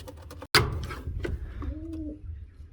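Pigeons coo softly in a breeding loft, a brief low coo rising near the middle, with a sharp knock or door bang, scattered clatter and quiet background noise around it.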